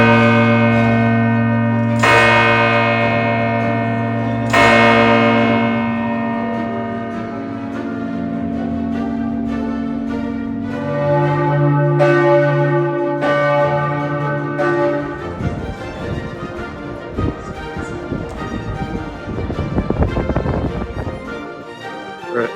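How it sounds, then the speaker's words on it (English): Large church bells ring high in the bell tower of Freiburg Minster, the cathedral in Freiburg. Strong, overlapping strokes with long sustained hum, close and loud, shift into a dense, clanging peal toward the end. "Freiburg's Munster in the bell tower, which we just listened to some of the bells."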